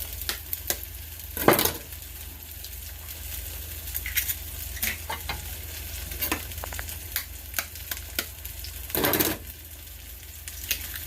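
Eggs sizzle in a frying pan for a steady stretch of soft, crackling hiss, broken by sharp clinks and a few louder bursts as a utensil knocks against the pan.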